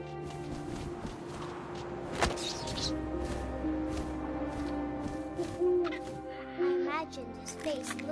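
An owl hoots in the video game What Remains of Edith Finch, soft calls over a steady wind-like ambience, with a voice narrating and occasional footfall-like thumps.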